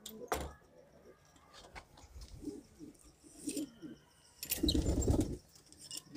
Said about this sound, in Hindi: ये हमने कबूतरों को खोल दिया।